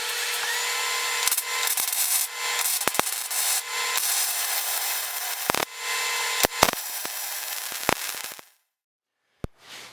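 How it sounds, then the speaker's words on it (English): Grinder cutting out porous weld tacks on front suspension brackets of a G-body Cutlass, a loud continuous abrasive whine with short interruptions and knocks, then it cuts off and spins down near the end. "So just grind that out of the way to make sure we can get a good weld all the way through."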